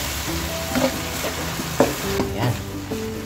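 Onions sautéing in a pan for pineapple chicken, a steady close sizzle with occasional scrapes and stirring clatters of a utensil, no talking.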